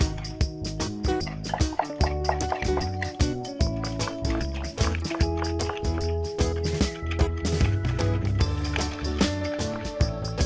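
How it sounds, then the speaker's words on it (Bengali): Rapid rhythmic clattering of beaten eggs being whisked with powdered sugar in a bowl for fruit cake batter, fast repeated strokes, close and steady with a few brief pauses. "এরপর চিনি গুঁড়োটা এর মধ্যে দিয়ে আরো ভালো করে ফেটিয়ে নেব।"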